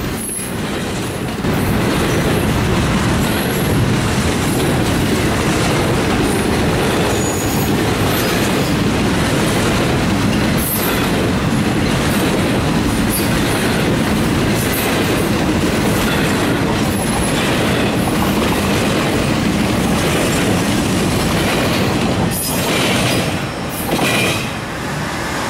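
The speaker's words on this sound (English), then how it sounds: "this NS freight train started up" A Norfolk Southern freight train rolls past on a winter day in Columbus, Ohio, with a loud continuous rumble, rhythmic wheel clatter and occasional squeals, sustained throughout.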